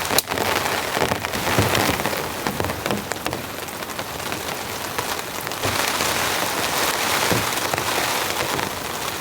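Heavy rain pours down steadily during a camping trip in a violent storm with plummeting temperature and possible hail, a loud, dense, continuous hiss with close patter and occasional louder splashes, no voices.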